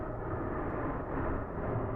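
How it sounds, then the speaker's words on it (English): A steady low rumbling roar, like an airplane passing overhead, continuous and fairly loud throughout with no voices. "that sounds like an airplane"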